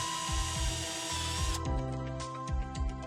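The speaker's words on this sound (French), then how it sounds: "Ensuite, percez les trous des supports" Power drill boring holes to mount battery supports for a solar roller shutter: a whirring motor hum broken by a series of short, rhythmic grinding bursts, close and without talk.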